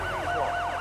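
A police car siren in GTA 5 wails in a steady rising-and-falling cycle, close and loud over a low engine rumble, with no voices.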